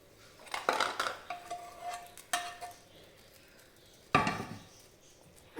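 Ingredients go into a pot of homestyle Kerala mango and drumstick curry, giving a few close metallic clinks and scrapes of a utensil against the pot, scattered over several seconds with quiet gaps.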